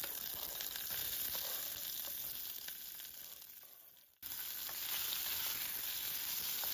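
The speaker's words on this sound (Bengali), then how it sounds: "রসুনটাকেও একটু হালকা ভেজে নেব, তারপরে দিয়ে দেবো পেঁয়াজ।" Kashmiri chillies and garlic frying in oil, a steady soft sizzle that dips briefly near the middle before picking back up, with no voices.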